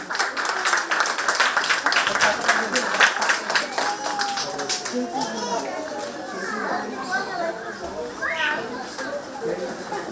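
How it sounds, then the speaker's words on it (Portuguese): A group claps for a few seconds while children chatter and shout, the clapping fading into lively crowd voices. "Aplauso para nós."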